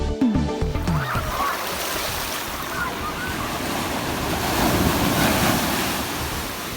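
Ocean waves roll onto a black volcanic sand beach in Tenerife, a continuous loud surf roar with heavy wind buffeting the microphone and a surge that swells midway.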